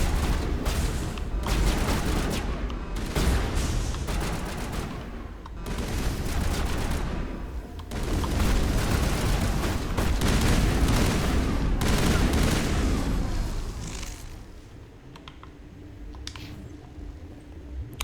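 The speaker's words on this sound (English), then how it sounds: "Why is these guys shooting at me?" Rapid gunfire in the Mass Effect video game, with dense bursts of shots and booms repeating loudly and closely for most of the stretch before easing toward the end.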